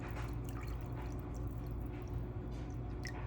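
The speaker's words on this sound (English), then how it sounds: "now I'm just gonna fill it to that filled top line" Water pours steadily into containers of strained chicken bone broth, a continuous close liquid trickle and fill with faint dripping throughout.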